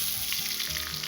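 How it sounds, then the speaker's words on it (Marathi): Soaked rice sizzling in hot ghee with spices in a pan over medium heat, a dense continuous frying hiss up close, with faint low stirring bumps beneath. "आता आपण जो तांदूळ भिजवून घेतला तो तांदूळ घालून घेऊ तुपामध्ये"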